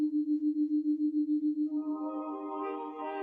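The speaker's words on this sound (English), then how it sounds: "Her only external stimulus comes from tones in her headphones." Binaural beat tones play through headphones: a steady low hum pulses in a regular wobbling beat, then higher layered tones rise and blend in, smooth and electronic with no voices.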